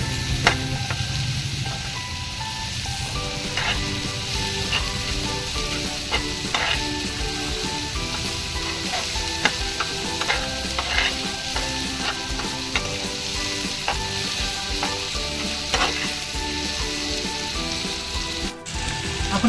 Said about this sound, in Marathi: आपण आता हे चांगलं परतून घेऊया.